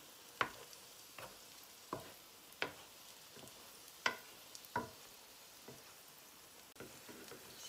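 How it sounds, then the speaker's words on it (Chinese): A meat pie pan-fries over medium heat with a faint, low sizzle, broken by a series of sharp, evenly spaced ticks and pops from the pan, fairly quiet and close. "开到中火啊，中火慢慢煎它"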